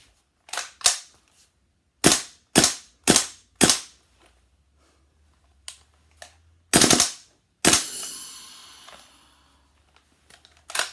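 An airsoft bullpup Glock 18C gas blowback gun shoots a series of sharp, snappy cracks, mostly single shots with uneven gaps and a few quick doubles, loud and close with a hissing tail after one burst.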